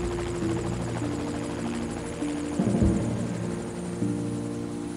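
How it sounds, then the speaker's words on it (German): Helicopter in the video game Evil Genius gives a continuous rotor thrum and engine drone at fairly loud, even level, swelling briefly midway, with no talk. "Wie viel da reinpasst in so ein Helikopter"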